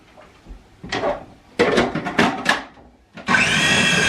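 A food processor blitzes lamb mince for a homemade lamb doner, its loud steady whir starting near the end after bursts of clattering and rattling from a wobbly, loose machine.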